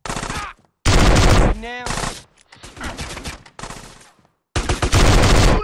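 Loud, close bursts of rapid automatic gunfire come in several volleys with short silent gaps, alongside brief shouted voices.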